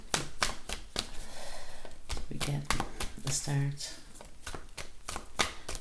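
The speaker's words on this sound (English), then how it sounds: "Just going to shuffle the cards more" Tarot cards being shuffled by hand, giving a series of quick papery riffles and soft slaps that repeat throughout, with a voice talking over them.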